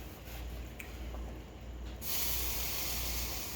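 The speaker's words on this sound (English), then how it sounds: "I'm gonna stir this broccoli around." Broccoli being stirred in a hot pan gives a steady, soft sizzling hiss that swells louder partway through and keeps crackling to the end.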